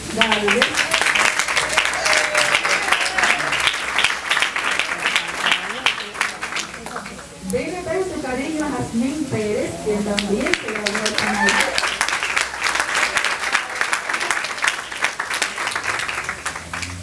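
Audience applause at a 2007 graduation ceremony, dense sustained clapping that briefly dips mid-way while music with a melodic line rises underneath, then swells again to full applause.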